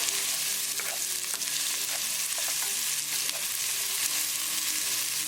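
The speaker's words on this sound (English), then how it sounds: "keep cooking until the onions are nicely translucent" Onions frying in a pan for black-eyed pea curry, steady loud sizzling with soft scraping of a spoon as they are stirred continuously.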